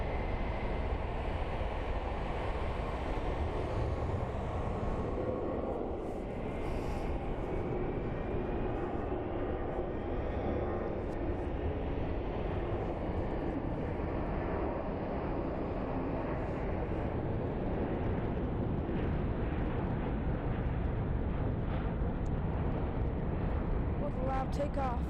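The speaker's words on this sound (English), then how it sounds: "An A330 from Lufthansa is taking off on the center, headed to St. Louis." Lufthansa Airbus A330-343 taking off at Frankfurt Main Airport, a loud, steady jet engine roar that holds broadband and close for the whole stretch, with a faint rising whine partway through.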